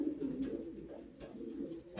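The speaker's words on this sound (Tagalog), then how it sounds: "ang ibon na to galing pang Romania" A pigeon imported from Romania coos softly and repeatedly, a low throaty murmur in close, quiet surroundings.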